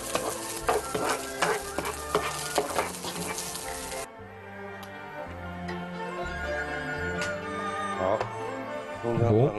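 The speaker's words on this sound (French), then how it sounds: "On rajoute le poireau, le gingembre et l'ail pour parfumer." Leek, ginger and garlic sizzle in oil in a pan in a restaurant kitchen, with a steady frying hiss and scraping stirs, busier at first and then softer.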